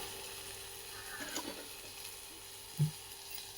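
Chopped onions fry in a pan with a little turmeric while Maggi noodles are cooked in a home kitchen: a faint, steady sizzle with a soft clink of the spoon, and no talking.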